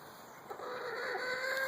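A hen clucks softly in a nest box in a backyard coop, a few low clucks close by over a steady background hum.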